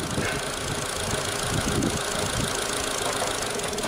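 A car engine runs rough at idle with two weak ignition coils, producing a loud, continuous, uneven mechanical drone with faint knocking, heard close up and alone.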